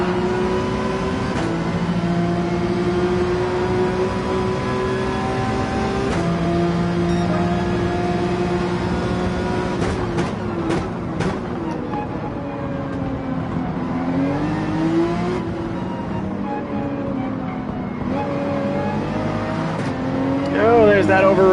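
A Gran Turismo 7 race car engine revs steadily at high pitch, its tone dropping and climbing with upshifts through the middle, loud and continuous while a voice talks over it.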